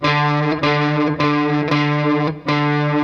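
A sustained distorted electric guitar chord with a wavering, beating warble from a bent string sounding against an open string, repeated in a few long strums with brief breaks between.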